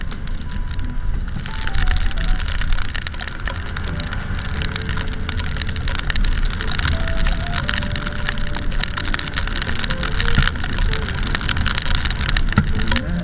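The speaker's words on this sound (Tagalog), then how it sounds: "puro ulan na lang makikita natin ngayon dito sa Baguio." Rain falls steadily during the rainy season on Outlook Drive in Baguio City, a dense continuous patter on surfaces with a low traffic-like rumble underneath, fairly loud and unbroken throughout.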